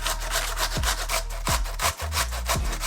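Potatoes rubbed against a grater for crispy hash browns, quick rhythmic rasping strokes, about one per half second, close and fairly loud, with no speech.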